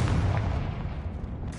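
A Confringo fire spell detonating in the Hogwarts Legacy video game, heard as a single loud, close boom that rolls off into a fading rumble over about a second and a half.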